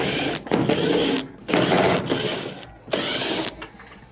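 A power driver whirs out quarter-inch screws from the rear panel of a clothes dryer, three separate buzzing bursts of about a second each with short pauses between, close and loud.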